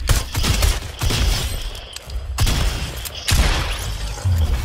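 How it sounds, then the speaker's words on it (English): Gunfire in Fortnite Chapter 2 Season 2, a run of loud, close bursts of shots with heavy low booms, arriving in clusters with brief gaps between volleys. "Oh, somebody's shooting me, of course."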